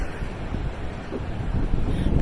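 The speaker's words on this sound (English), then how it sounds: "cold and windy and freezing" Cold, gusty wind buffets the microphone during an outdoor winter walk, a continuous low roaring rumble that swells slightly toward the end, with no voices.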